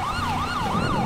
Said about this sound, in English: I did change the siren up. It's a wheeling siren.